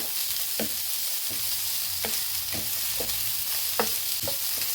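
Carrot and capsicum stirred in a pan over low gas: a steady soft sizzle with repeated scraping strokes of a spoon at an uneven rhythm, close and moderately loud, no talking.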